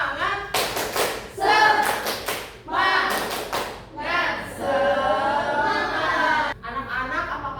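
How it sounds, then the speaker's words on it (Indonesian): A primary school class claps out a rhythmic spirit clap together in the classroom, bursts of sharp group claps in a patterned beat mixed with children's voices and chatter. "kita tepuk semangat dulu yuk"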